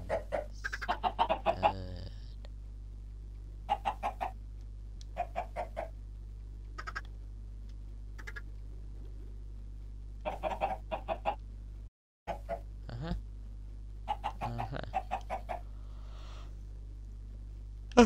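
Minecraft chickens cluck in short, scattered bursts over a low steady background hum, with several quiet gaps between groups of clucks and no speech.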